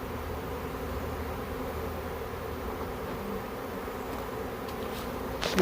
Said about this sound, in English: Get these bees all rally up